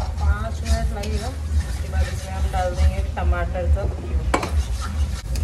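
Paneer gravy masala fries in a pan with a soft continuous sizzle and occasional clinks of a utensil, heard under someone talking throughout.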